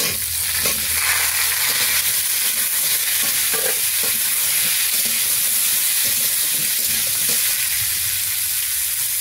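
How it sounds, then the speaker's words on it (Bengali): Pumpkin and potato frying in a pan over a mustard seed and dried red chilli tempering, a loud continuous sizzle with scattered stirring scrapes throughout. "এবার আমি এই সবজিগুলো দিয়ে একটু ভেজে নেব।"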